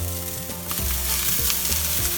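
Steady sizzle of spinach and beans frying together in a pan, close and fairly quiet, with soft stirring scrapes and a few brief clatters of the utensil.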